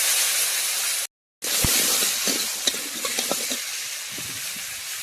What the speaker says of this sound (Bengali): ওই কড়াইতে আলু কড়া ভেজে নেবো